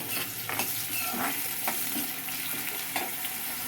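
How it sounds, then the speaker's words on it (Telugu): Two finely chopped onions and four chopped green chillies fry in hot oil with a dense, steady sizzle, and a spoon scrapes and stirs the pan every so often; no one speaks. "రెండు ఉల్లిపాయలు నాలుగు పచ్చిమిరపకాయలు సన్నగా తరుక్కుని ఈ ఆయిల్లో వేసుకుని వేయించుకుంటున్నాము"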